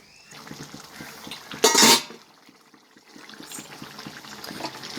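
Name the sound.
stirring cooked country chicken in a pan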